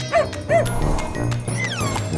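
Two quick, high-pitched dog yips followed by a longer whining bark, heard close over a steady layer of background music.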